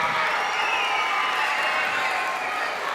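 Audience at a school band winter concert claps and cheers continuously, a steady dense wash of applause with shouts, no talk over it.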